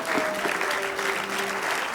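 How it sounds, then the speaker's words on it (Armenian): A studio audience on a sports TV show claps together in a brief burst. The steady, even applause fills the room at moderate volume. "Անդրանիկին եկեք ծափերով ծափարենք"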